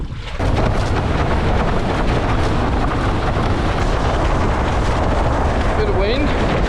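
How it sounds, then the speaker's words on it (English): Strong wind roars continuously across the microphone while windsurfing on a Tribal Weedspeed 33 fin, a loud broadband rush with gusting buffets that starts abruptly after a brief quiet moment and runs to the end. "Bit of wind."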